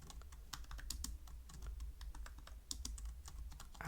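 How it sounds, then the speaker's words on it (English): Quick, irregular clicks of a computer keyboard as a search term is typed, faint and close, with short pauses between bursts of keystrokes and no voices. "I'll type in conditional"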